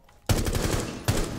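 Gunfire in Rainbow Six Siege: a sudden loud burst of rapid automatic shots, then a second sharp burst about a second later.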